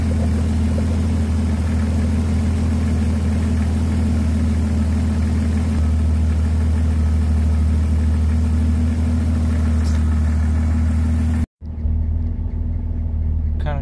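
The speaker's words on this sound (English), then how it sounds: "Just let it idle for a good few minutes." A 1997–2001 Jeep Cherokee XJ engine idles steadily at operating temperature after a water pump replacement and cooling system flush, a loud, even low rumble that cuts out abruptly near the end before resuming.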